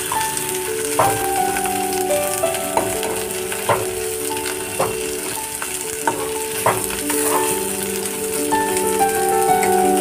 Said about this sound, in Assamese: অলপ সময়ৰ কাৰণে ভাজি থাকিম